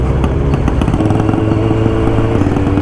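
Motorcycles rumble steadily at a large motorcycle rally at Faaker See in Austria, a loud continuous engine drone with low throbbing exhaust notes and no clear talk.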